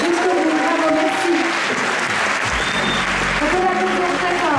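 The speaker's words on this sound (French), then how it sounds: "On peut l'applaudir très fort." Loud, sustained applause from the audience at the Miss Côte d'Or 2024 beauty pageant, continuous clapping filling the room, with voices faintly audible beneath it.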